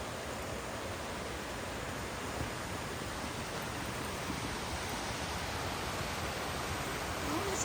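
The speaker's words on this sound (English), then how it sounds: "Oh, this is a nice little waterfall." Trillium Falls, a small waterfall, rushes in a steady, dense broadband roar that stays constant and close throughout, with no voices over it.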